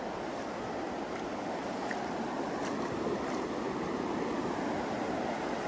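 Sea waves at Riviera de São Lourença beach, a loud continuous roar of surf with wind buffeting the microphone, steady throughout and with no talking.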